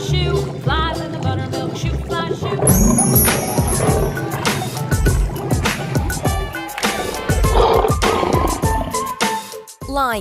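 A lion gives loud, growling roars amid a busy, layered mix of other sounds and a few higher whistling tones, continuing steadily throughout.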